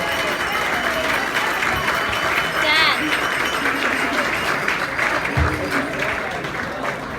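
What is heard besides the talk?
wedding guests applauding a speech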